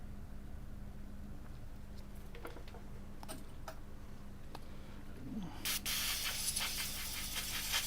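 Freeze spray hissing during a MacBook repair at the bench, a loud sustained burst arriving near the end after quiet ticks and faint clicks over a steady background hum.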